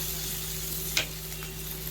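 Onions fry in butter in a pan for pav bhaji, giving a steady, close hiss of sizzling with one sharp utensil tap near the middle.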